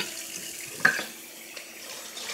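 Water runs from a sink faucet during rinsing at the kitchen sink, a soft steady splashing stream heard close and fairly quiet, with a small clink partway through and no talking.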